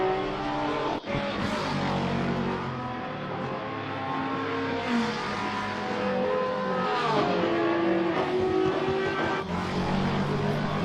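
Race cars roar around Zandvoort in a racing video game, several engines revving and shifting pitch as they run close together in a continuous, loud drone with no voices.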